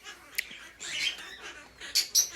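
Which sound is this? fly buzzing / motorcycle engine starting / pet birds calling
pet birds calling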